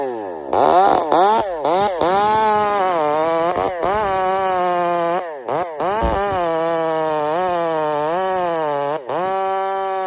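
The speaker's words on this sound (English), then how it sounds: "It's just 2 saws that are very similar in power, and we're having fun." A Stihl 500i and a Husqvarna 371 chainsaw cutting firewood, loud and close, the engines' whine repeatedly dipping and climbing in pitch as they bog and rev through the wood, with a few brief drops.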